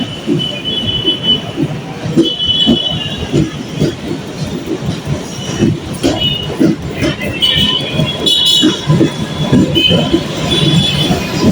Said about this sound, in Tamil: இது வந்து புதுசாக விட்டுருக்க லோக்கல் ட்ரெயின், லோக்கல் ட்ரெயின் ஏசியில்